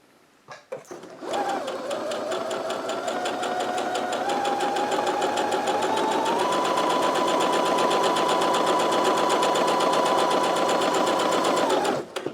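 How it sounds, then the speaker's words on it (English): A Singer Heavy Duty 6800C sewing machine stitches a test seam, starting with a few clicks and then running as a loud, steady, fast mechanical whir that speeds up slightly before it stops. "Let's do a little test stitching."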